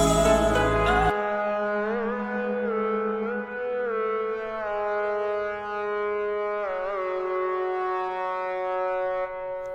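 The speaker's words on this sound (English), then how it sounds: "I think it was another synth." Synth sound in a Bryson Tiller-style beat: a sustained tone that bends and slides in pitch, following a brief loud burst at the start, playing alone at moderate level.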